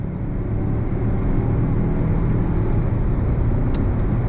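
A 2022 Mazda CX-9 midsize SUV pulls hard on throttle after a downshift, its engine a steady, loud low rumble mixed with road and wind noise from inside the cabin, with no talking.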